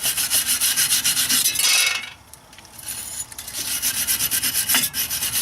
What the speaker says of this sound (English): you always want to clean the mounting surface where the new rotor is going to be with a wire brush